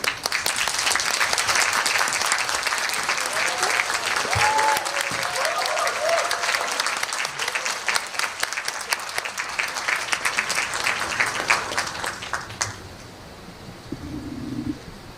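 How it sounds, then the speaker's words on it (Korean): Loud, sustained applause from a large audience at a film screening talk welcoming director Park Chan-wook, steady clapping for about twelve seconds before fading into quiet room tone. "큰 박수로 맞아주시면 감사하겠습니다."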